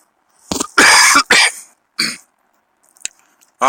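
Harsh, loud coughing fit at close range from a smoker recovering from strep throat: a quick run of rough coughs, then a pause, one more cough and a throat clear.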